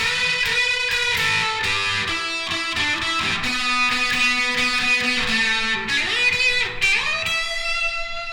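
A lead electric guitar plays a solo of quick runs and bent notes with a slightly driven tone, loud and continuous.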